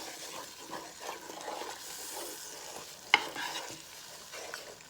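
A spoon stirs turkey wings in sauce inside a Power XL cooker, soft sloshing and faint sizzling with a sharp clink of utensil against the pot near the end, quiet and close.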